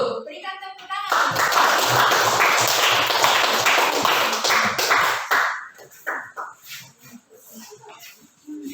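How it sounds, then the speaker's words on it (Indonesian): Audience applause breaks out after a group presentation in a classroom teacher-training session, dense and sustained clapping for several seconds before thinning into scattered claps as a voice resumes. "Berikan tepuk tangan."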